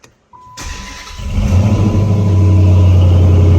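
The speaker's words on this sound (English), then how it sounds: "It's got a very nice rumble out of the exhaust here." A Dodge Challenger SRT8 engine cranks and fires up close by, then settles into a deep, steady exhaust rumble that grows louder and holds.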